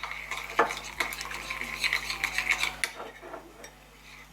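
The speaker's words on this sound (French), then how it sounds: "Vous voyez, je mélange bien ma levure" Spoon stirring yeast into water in a bowl for French bugnes dough, with repeated light scraping and clinking against the bowl, close and fairly quiet, with no talk.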